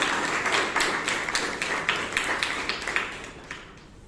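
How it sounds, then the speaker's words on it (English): A room of Toastmasters club members applauds steadily, many hands clapping in a dense, even patter that tapers slightly toward the end. "put a big round of applause for Toastmaster Robinson"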